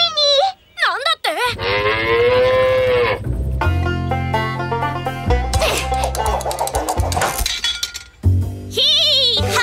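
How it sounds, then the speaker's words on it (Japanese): Cows mooing in a Paw Patrol cartoon as they drift out to sea on a boat, long drawn-out moos mixed with bright musical score, splashy effects and lively voices. "牛が船に乗って海に流されちゃった。"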